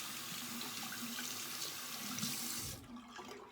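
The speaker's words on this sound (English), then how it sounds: "rinse my hands off real quick" Hands rinsed under a running tap, a steady close splash of water into a sink that changes briefly as the hands move and then drops off near the end, with no talk.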